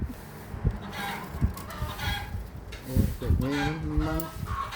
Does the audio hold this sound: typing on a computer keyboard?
no